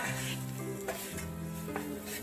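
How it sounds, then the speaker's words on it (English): A spoon stirs ground turmeric and spices into onion frying in a pan. There is a steady sizzle with soft scraping strokes and a couple of light knocks against the pan, quiet and close, with no talking. "Mix that all in with the onion."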